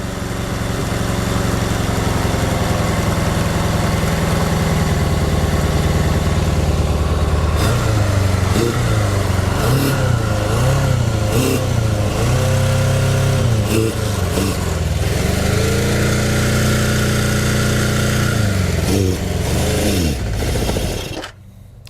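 A KZ550 motorcycle engine idles steadily, set slightly high, at close range, then revs up and down repeatedly in uneven bursts before dropping back.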